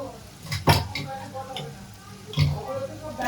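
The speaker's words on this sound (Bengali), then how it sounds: "আদা রসুন দিয়ে ভালো করে ভেজে নেব।" Ginger and garlic frying in a pan, a low sizzle punctuated by two distinct spatula clanks against the pan, with a few quieter scrapes between them, heard up close.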